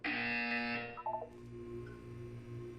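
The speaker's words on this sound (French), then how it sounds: "Vous allez entendre une sonnerie." A synthetic ringing tone in the video game Portal 2, a loud buzzy harmonic tone that cuts off after about a second, followed by a few short electronic beeps and a low ambient hum.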